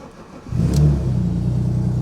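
An Alfa Romeo 156 V6 in neutral with the clutch down fires up after a short crank and settles into a loud, steady idle with a slight rev, close by and with no talk.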